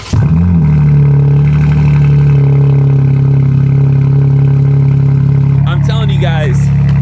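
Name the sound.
BMW G80 M3 xDrive engine cold start in snow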